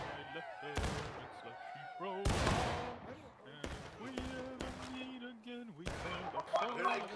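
Musket volleys in the Civil War game War of Rights come as several sharp, booming bursts spread irregularly over a few seconds, with shouted voices calling between the shots.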